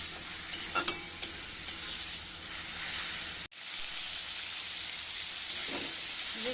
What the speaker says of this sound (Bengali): হালকা করে একটু ভেজে নেব বেশি ভাজলে আবার গলে যাবে